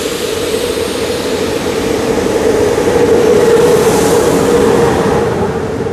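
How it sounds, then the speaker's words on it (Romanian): Interregio 375 Mureș train pulling into Arad railway station, a loud, steady rumble and engine drone with a sustained low hum that swells slightly midway, close by and continuous, no voices. "Interregio 375 Mureș,"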